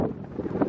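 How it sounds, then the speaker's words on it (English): Strong gusting wind buffeting a microphone outdoors, a steady loud low roar swelling and easing over a brief moment with no voices. "Oh, the wind has really, really picked up."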